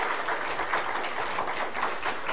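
Applause of encouragement from a church congregation during a pastor's installation service, a steady dense patter of many hands clapping continuously without talk.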